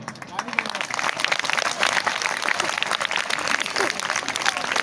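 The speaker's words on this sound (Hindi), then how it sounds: "ये ताली आपके लिए," An audience at a motivational speech by a district collector breaks into applause, dense clapping from a crowd that rises and holds steady, with a voice talking over it.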